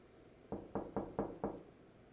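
Five evenly spaced knocks, as of a fist rapping on a door, sound at a steady rhythm, fairly close and distinct over a quiet background.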